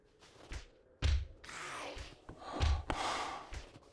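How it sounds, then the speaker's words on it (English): Zombie in 7 Days to Die breathing with wet, rasping gasps and snorts, several uneven breaths close by, muffled as if from inside a toilet, with occasional thunks between. "Why did it sound like there was a zombie breathing inside of a toilet?"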